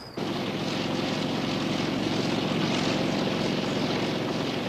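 A propeller aircraft on a flight to the remote Siding Springs telescope facility, with a loud, steady cabin engine drone that starts abruptly and continues unbroken throughout.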